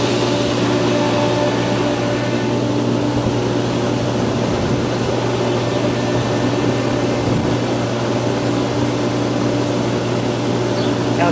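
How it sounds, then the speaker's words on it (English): Two pool pumps run together, pushing water through a solar heating loop during pool opening, giving a loud, steady, continuous mechanical hum with strong low tones that holds unchanged throughout, with no voices. "Both pumps at once."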